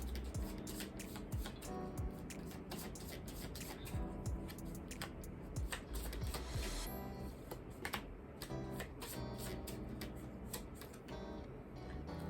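Tarot cards being shuffled and drawn from a deck, a steady close stream of quick papery flicks, slides and taps with no talking.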